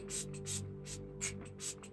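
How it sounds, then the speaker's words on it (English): A small bottle of aura mist spray, Make Me Shine, is spritzed in about five quick, hissing bursts at a fairly even pace. The sprays are close and soft, with no talking. "I'm going to spray with some aura spray"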